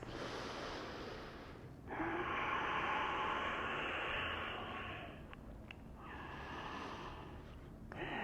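Slow, steady breathing during a held yoga pose, with long airy inhales and exhales close to the microphone and no talking.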